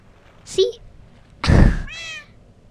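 A tamed cat in the Minecraft video game meows: a short mew is followed by a louder, drawn-out meow with a wavering tail, both close and clear, set against quiet game ambience.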